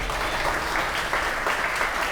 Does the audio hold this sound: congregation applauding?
yes